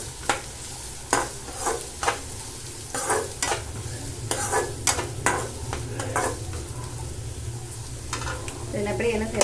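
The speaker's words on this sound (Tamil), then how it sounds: "அதுக்கப்புறம் வந்து பொடியாக கட் பண்ண வெங்காயம் சேர்த்துக்கணும்" Finely chopped onion fries with popped mustard seeds for egg rice, a continuous sizzle with frequent scraping stirs and pan knocks at an irregular rhythm throughout.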